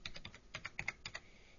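Quick bursts of keystrokes on a computer keyboard as an order number is typed, about ten close, crisp clicks in an uneven rhythm, then a quiet pause.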